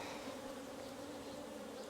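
Honeybees in a hive give off a dense, steady buzz, close and continuous, with no voices over it.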